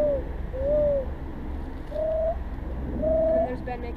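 A person imitates a mourning dove with a hand or mouth call, giving three or four clear, hollow coos at an even pace, spaced by short pauses and loud against quiet outdoor background.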